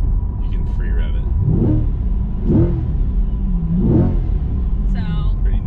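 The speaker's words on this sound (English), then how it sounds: "If you pull both of these in, you can free rev it." Chevrolet C8 Corvette mid-engine car free revving while parked, several rising engine revs that climb and fall in turn, heard near and loud with people talking over them.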